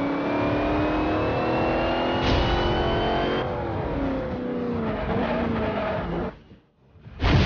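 Toyota Supra engine in the Forza Horizon 2 racing game, revving high and climbing through gears with loud, continuous roar, a brief shift drop, then a sudden cut and a final burst of revving.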